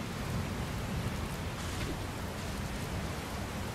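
Heavy storm rain in Dragon Quest Builders 2 roars as a steady, dense hiss with a low rumbling undertone, unbroken and fairly quiet throughout.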